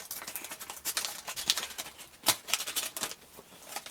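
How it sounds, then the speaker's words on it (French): Scissors snipping through a paper envelope, a quick series of sharp crisp cuts and paper rustles, close and fairly loud, with no voices. "Je me suis mis des ciseaux parce que je suis très nulle pour ouvrir les enveloppes."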